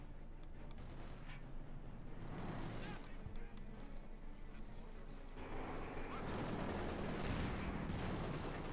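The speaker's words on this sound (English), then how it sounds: "Got the command tank moving up with a 75mm howitzer, if you will, or light infantry gun" Company of Heroes 2 battle with a 75mm howitzer on a command tank lobbing high explosive shells, a dense, continuous rumble of distant gunfire and blasts that swells louder toward the end.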